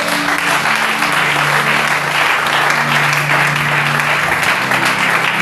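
Sustained applause and cheering from a church congregation during a French-language sermon, a dense, steady wash of clapping filling the whole stretch with a low hum of voices beneath.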